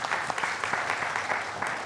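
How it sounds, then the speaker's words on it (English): Audience applause at a World Environment Day event at the Constitution Club of India: a short, even stretch of steady crowd clapping. "Can we have a big round of applause"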